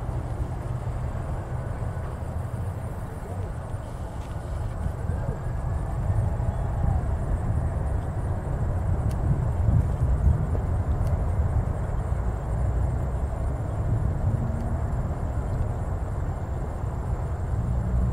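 A Polar Air Cargo Boeing 747-46NF takes off from runway 27 at KCVG, giving a steady, broad jet rumble that holds at an even level throughout, with no voices.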